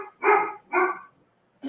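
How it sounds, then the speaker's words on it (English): A dog barks twice in quick succession, loud and close, followed by a short, softer yelp after a brief pause, with no talking. "I don't know what she's barking at."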